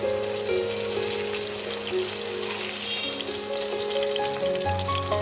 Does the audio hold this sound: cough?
no